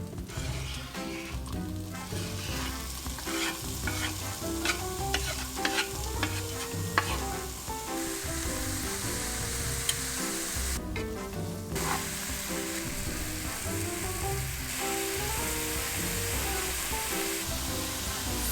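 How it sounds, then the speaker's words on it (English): Kimchi fried rice sizzles and crackles steadily in a frying pan, with spoon or spatula stirring scrapes throughout, close and continuous at moderate loudness. "So this is gonna go in the frying pan."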